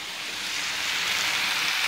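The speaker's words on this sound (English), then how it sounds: "The bacon's starting to sizzle, as you can probably hear" Bacon sizzling in a frying pan during a Sunday-morning breakfast fry-up, giving a steady, soft, continuous crackling hiss with no talk over it.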